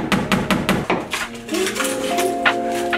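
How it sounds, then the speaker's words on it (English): Hammering on a home project, with four quick sharp metallic hammer strikes close by at first, followed by lighter clinking and a few scattered knocks. "then I'll hammer them the rest of the way."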